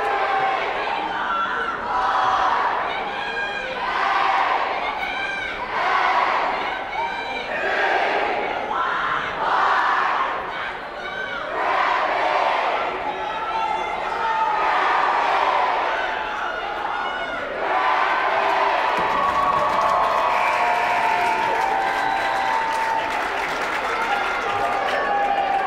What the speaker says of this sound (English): So you can hear that the crowd is pretty fired up by this one as well.